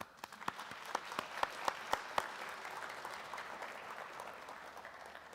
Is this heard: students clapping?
yes